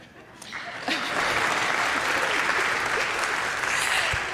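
Applause breaks out at an organ dedication recital, rising quickly from a quieter start into a full, steady round of clapping from the audience that holds to the end.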